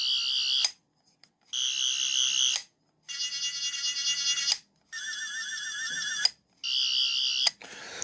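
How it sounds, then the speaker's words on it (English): A War Doctor sonic screwdriver toy runs through a series of its electronic effects: separate bursts of warbling, whirring high-pitched tones, each lasting about a second, with short silent gaps between them. "But it makes some of the same sounds as the fourth sonic screwdriver."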